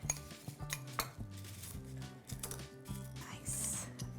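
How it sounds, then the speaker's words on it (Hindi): A metal spoon crushes pieces of khichdi in a pan, making a close run of repeated scraping clinks and taps against the cookware in an uneven rhythm. "जो थोड़े बड़े बड़े पीसेस रह गए हैं इसे भी मैं चम्मच की हेल्प से और भी क्रश कर रही हूँ"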